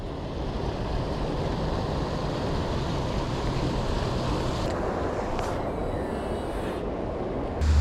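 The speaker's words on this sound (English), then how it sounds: "Big old spillway in front of here." Water rushing steadily over a big canal spillway, a dense, continuous roar heard close and alone with no letup, wind buffeting the microphone near the end.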